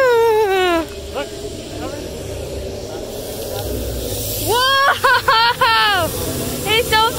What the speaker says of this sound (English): Have lava spray on me!